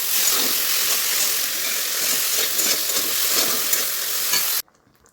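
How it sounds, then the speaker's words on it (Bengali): Onions, tomato, capsicum and other vegetables fry in a pan for chilli chicken, giving a loud, steady sizzling hiss with stirring scrapes that stops abruptly near the end. "এখন বাকি সবজিগুলো দিয়ে নুন দিয়ে নিয়েছি, এখন ভালো করে এগুলো ভেজে নেবো"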